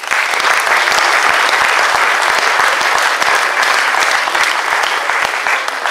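A concert audience at a September festival in Lanciano gives dense, steady applause that holds at the same loud level throughout, with no voices standing out.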